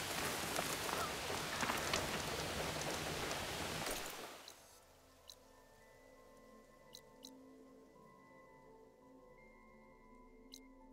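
Heavy rain roars in Horizon Forbidden West for about four seconds, then abruptly fades to a quiet background with a few scattered drips.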